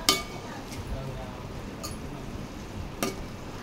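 A spoon scrapes and clinks against a pan while stirring drumstick and tomato curry, a few sharp metallic knocks over a low simmering sizzle, with a voice talking faintly.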